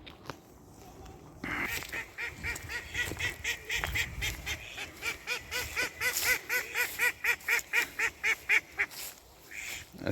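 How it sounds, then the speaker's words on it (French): A small colony of mallard ducks quacks loudly in a rapid, rhythmic series that builds toward the end, the female scolding the male, heard up close outdoors near a village without speech. "Ah, une petite colonie de canards colverts"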